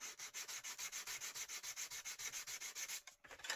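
Fine hand sanding with 180 grit paper on the casing of a 1980s Realistic tuner being restored: steady rhythmic back-and-forth rasping strokes, close and alone, about two per second, pausing briefly near the end.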